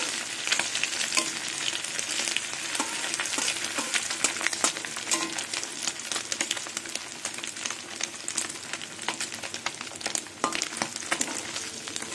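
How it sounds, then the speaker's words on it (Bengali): Amudi fish frying in hot oil in a wok, with a dense, continuous crackling sizzle and scattered sharp pops running steadily throughout, close and loud with no talking. "মাছগুলো সব উল্টে দেবো।"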